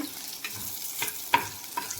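Turkey berries and shallots sizzle in a pan as a spoon scrapes and stirs in several quick strokes, close and crisp.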